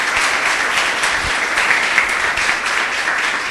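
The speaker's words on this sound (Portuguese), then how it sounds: "Louve ao Senhor com suas palmas." A church congregation claps together in praise during a Portuguese-language worship service, a loud, even roar of many hands that holds steady throughout with no talking.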